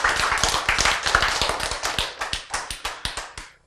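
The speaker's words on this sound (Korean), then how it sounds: "박수." A church congregation claps together in a fast, even burst of applause that fades out toward the end.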